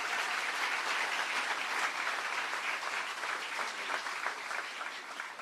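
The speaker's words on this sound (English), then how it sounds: "Give them a round of applause because they deserve it." Sustained applause from a large audience at a bill-signing event, dense and steady for several seconds at moderate loudness with no talk over it.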